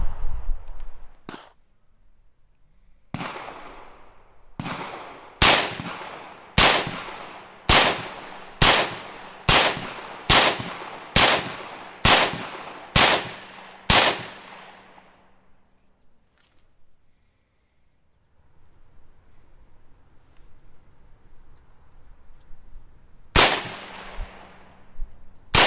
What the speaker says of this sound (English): I'm going to start shooting. We're going to see where the sight is set and see how the PTR 601 does.